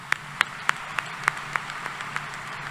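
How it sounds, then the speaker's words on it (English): Sparse applause from a university commencement audience in Texas, with a few distinct handclaps spaced about every quarter second over quiet room tone, fading toward the end. "Let's give them a round of applause."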